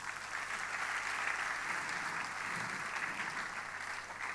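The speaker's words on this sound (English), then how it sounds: "A big hand." A big hand of audience applause at a charity music concert, steady and dense clapping from a large crowd that holds a constant, moderate level from start to finish.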